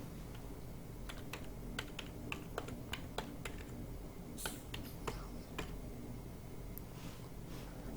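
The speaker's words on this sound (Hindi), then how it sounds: "तो यहाँ पर हम मैनुअल टाइप कर लेते हैं।" Numbers are typed by hand on a computer keyboard, a series of crisp, irregular key clicks close to the ear, quiet and without speech.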